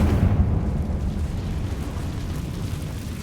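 A Confringo blasting spell explodes in Hogwarts Legacy, a loud, deep rumbling blast that hits at once and then rolls on as a sustained roar.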